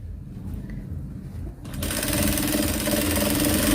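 A sewing machine stitches a blouse, starting after a brief quiet stretch of handling and then running in a fast, steady, loud whirring rattle close by.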